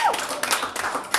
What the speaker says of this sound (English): Please give yourself a round of applause for coming out tonight.